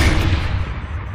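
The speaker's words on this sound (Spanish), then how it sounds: "No te haces una idea de la fuerza que tenía un cañonazo." A Tiger tank cannon firing in a war documentary, a single loud booming shot with a deep low rumble that slowly decays, heard alone with no voices.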